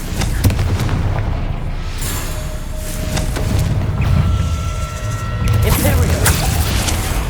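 Confringo spell blasts in Hogwarts Legacy battle, a chain of booming explosive impacts and crackling magical fire layered over dense combat noise, loud and close throughout.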